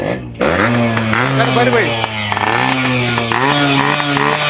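Yamaha RX 100 two-stroke motorcycle starting with a kick and then revving loudly up close, the engine note rising and falling through several throttle blips.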